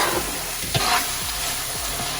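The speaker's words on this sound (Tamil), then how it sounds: "நல்லா வதங்கி வரட்டும்." Onions and tomatoes for mutton biryani sautéing in a pan make a loud, continuous sizzle, with a few spatula strokes scraping through it in a slow rhythm, alone and close.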